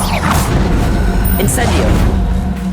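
Expelliarmus spell cast in the Hogwarts Legacy video game, a dense roar of booming, whooshing magical impact layered over constant game ambience and music, loud and continuous for a few seconds.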